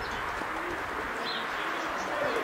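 Soft cooing of racing pigeons landing at a loft during a winter race in Kosakowo, Poland, amid outdoor background noise, a few low calls repeating over a couple of seconds.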